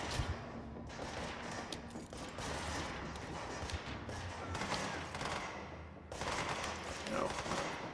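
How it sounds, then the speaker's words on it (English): Gunfire in the video game Control, a dense, continuous spray of shots and thuds that carries on for several seconds with a short dip near the end, heard at a moderate distance. "I hear gunfire."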